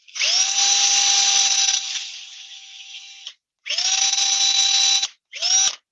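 A power drill running in reverse with tape still wrapped on it, whining loudly in a long burst, then two shorter runs after brief pauses, each spinning up and cutting off abruptly.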